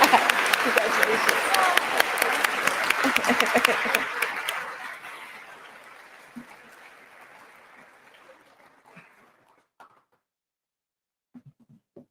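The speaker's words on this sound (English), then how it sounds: "I feel like we should keep clapping, you know." Audience applause at an upper school closing ceremony, a dense round of clapping that fades over several seconds into scattered claps and quiet, with a voice speaking briefly during it.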